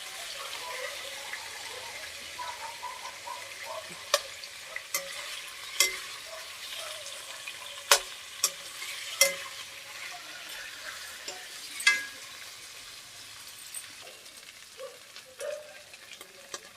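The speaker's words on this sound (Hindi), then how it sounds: "उसी में फ्राई कर रहे हैं हम।" Paneer and potato pieces fry in oil in a pan with a steady low sizzle, broken by a few sharp clinks and scrapes from stirring, with no voices present.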